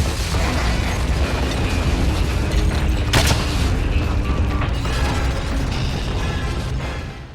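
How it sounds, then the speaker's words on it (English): A nail gun fires in the Quantum of Solace video game during a fight in Venice, sounding as a loud run of sharp mechanical bursts over constant booming action noise, with one strong crack near the middle. "And just like in the movie, it's nail gun time."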